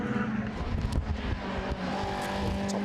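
Modified Ford race cars, an Escort among them, roar around the Cadwell Park circuit. Several engine notes overlap as they pass through back markers, loud and near, with rising and falling revs.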